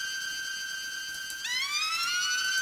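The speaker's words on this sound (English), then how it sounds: "Sort of the siren kind of sounding thing." A sustained electronic siren-like synth loop tone that shifts partway through into a rising, wailing sweep with layered harmonics, steady and moderately loud.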